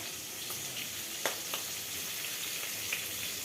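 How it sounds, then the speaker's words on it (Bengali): Fish fries in oil in a pan, giving a steady soft sizzle with a few faint crackles and pops, fairly quiet and unbroken. "মাছ ভাজা বসিয়ে দিয়েছি"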